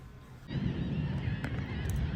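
Migratory birds flying overhead in the open sky, a sudden burst of honking calls, goose-like and layered, continuing steadily after a quiet start.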